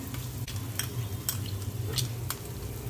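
Green chillies drop into a heated pan and crackle with a steady close sizzle, punctuated by a few sharp clicks and spatters, over a low hum throughout.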